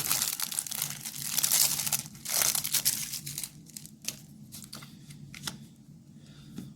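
Crinkly, crackling packaging of a card deck being torn and crumpled open, a run of rustling bursts that eases into quieter handling.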